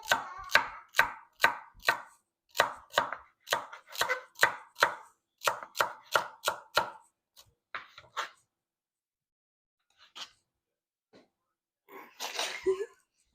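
Knife strikes from chopping beef stew ingredients with a dull blade in a home kitchen, a brisk run of sharp, close cuts for about seven seconds, then a few scattered chops and a brief rustle.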